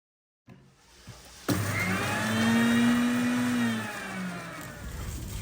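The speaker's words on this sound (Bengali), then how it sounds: "আমি কিছুটা টক দইয়ের সাথে পেঁয়াজটাকে ব্লেন্ড করে নিব" A kitchen blender whirs loudly, blending fried onion with sour yogurt, starting abruptly and rising to a steady high-pitched motor whine that slowly winds down, with no talking.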